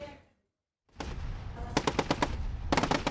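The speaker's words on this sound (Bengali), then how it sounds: "সমুদ্র দিকে তাক করা ট্যাঙ্ক থেকে মুহুর্মুহু গোলাবর্ষণ, আকাশে ছুটছে একের পর এক গুলি" A Taiwanese military drill erupts with tank shelling aimed toward the sea and gunfire: after a brief silence, dense loud rumble sets in, punctuated by sharp clustered bursts of shots in quick succession.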